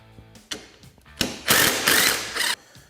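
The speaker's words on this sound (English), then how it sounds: "Next, we're going to remove the following bolts." A ratchet clicks rapidly while removing radiator mount bolts on a Polaris RZR Trail S 1000, close-up bursts of mechanical ratcheting.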